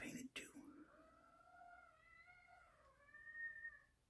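A pet cat whining in a drawn-out, wavering meow close to the microphone, rising and falling over several seconds after a brief thump, in a quiet room.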